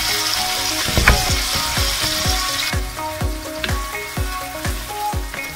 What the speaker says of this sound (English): So just break off the onions